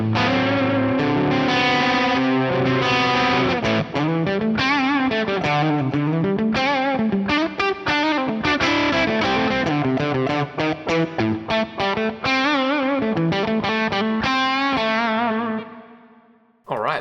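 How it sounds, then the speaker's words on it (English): A modelled Les Paul electric guitar on its rear pickup, played through a Boss SY-1000, rings out in a continuous run of overdriven notes and bends for about sixteen seconds before stopping abruptly. "we can change the type of electric guitar. Let's try a Les Paul, and let's use the rear pickup"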